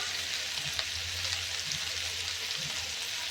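Gourd frying in ghee in a pan gives off a steady, even sizzle while it is stirred now and then with soft, low bumps, close and fairly quiet, with no talking.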